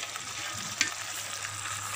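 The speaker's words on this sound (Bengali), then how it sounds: "জিরা গুঁড়া, ধনে গুঁড়া দিয়ে এটা কষাচ্ছি।" A spice paste of turmeric, ginger-garlic paste, cumin and coriander powder sautés in hot oil for fish, giving a steady, soft sizzle with a single brief scrape of stirring partway through.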